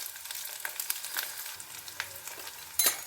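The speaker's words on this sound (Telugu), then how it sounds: "ఆనియన్ బాగా బ్రౌన్ కలర్లోకి వచ్చేంత వరకు వేపుకోవాలి." Onions fry for egg fried rice over medium flame in a pan, giving a soft continuous sizzle broken by several sharp stirring scrapes and clicks, close and quiet with no talking.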